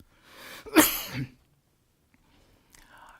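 A single sharp, explosive cough bursts out after a short breath, followed by near silence and a faint rustle.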